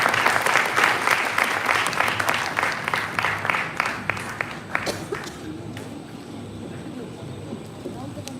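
An audience applauds at a school Founder's Day program, steady dense clapping that thins out and fades after a few seconds, leaving a quieter room.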